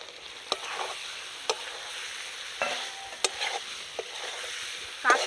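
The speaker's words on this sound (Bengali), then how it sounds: "ভালো করে সব মশলার সাথে আলু আমি কষিয়ে নেব" Fried potatoes are stirred into oil-rich spice paste in a pan for Kashmiri aloo dum, with a steady low sizzle and sharp, separate scrapes and clinks of the spoon against the pan every second or so.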